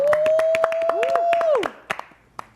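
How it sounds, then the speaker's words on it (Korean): A studio audience at a live comeback broadcast for a K-pop band gives a short burst of sharp, scattered claps under a sustained electronic tone, then a few isolated claps trailing off. "일단 박수 한번"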